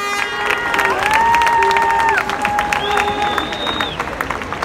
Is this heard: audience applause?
yes